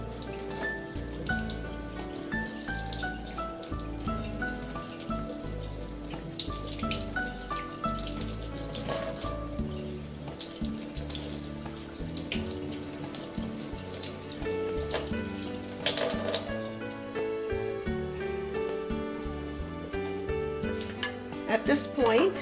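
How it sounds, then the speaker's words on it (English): An aloe vera leaf rinsed under a running cold-water tap, with a steady splashing flow throughout and a person talking over it, with a soft musical background. "Then I take the leaf and I wash it abundantly in cold water."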